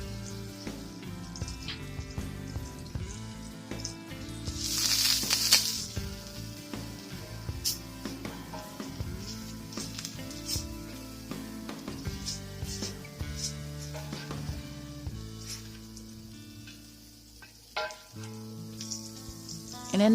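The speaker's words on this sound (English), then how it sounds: "Next, I'm adding a tablespoon of butter to the pan." Butter sizzles and crackles steadily in a pan, with small pops and occasional scraping or stirring through a continuous frying hiss.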